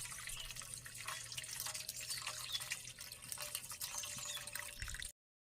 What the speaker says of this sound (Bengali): এবার গুড়ের শিরাটা ছেঁকে নেবো